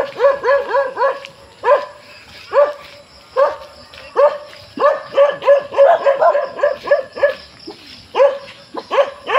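Several dogs bark close by during an outdoor walk, loud repeated bursts of barking with yips in an uneven rhythm and short pauses between volleys.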